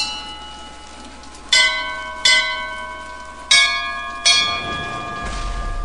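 Bells in BioShock Infinite strike four times in a slow, uneven sequence, each ringing tone decaying over steady background ambience, with no talk.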